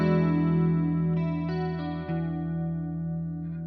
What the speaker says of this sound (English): the stereo chorus setting,